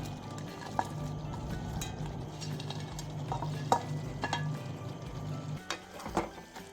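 Fried cauliflower is being stirred into a thick Gobi Manchurian sauce in a pan, with a soft continuous sizzle under scraping and occasional utensil clinks against the pan, growing more irregular near the end.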